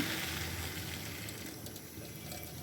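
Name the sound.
hot water poured into cooking pot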